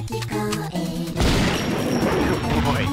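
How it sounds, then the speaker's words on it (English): Missiles fire in a MUGEN fighting game, a loud burst of booming, crackling blasts that follows a run of short musical or effect tones and fills the rest of the moment. "Missiles fire."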